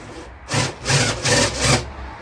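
A drill boring through a hardwood door to cut a mortice-lock hole, a close rasping grind that comes in about four short bursts with brief pauses between them.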